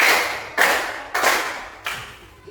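Three sharp unison claps from a group during a repeated clapping drill, evenly spaced and close, each fading quickly into near silence, with nobody speaking.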